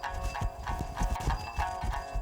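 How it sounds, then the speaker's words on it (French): Mongolian horse moving at an ambling trot in high mountain terrain, hooves striking in a steady rhythmic clip-clop, close and moderately loud with no talk. "Le cheval mustangui a une façon particulière de trotter."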